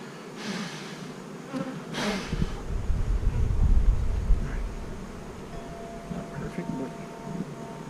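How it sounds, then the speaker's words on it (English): Honeybees buzz steadily close by on top of a hive feeder, a constant insect drone with wind rumbling against the microphone and a few brief rustles. "And now we got bees on the top of the feeder"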